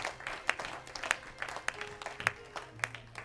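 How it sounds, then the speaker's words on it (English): Church congregation clapping during a fasting and prayer service, sparse and uneven claps with a few sharper individual hits roughly every half second, fairly close and moderate in loudness. "Put your hands together for yourself. Clap away."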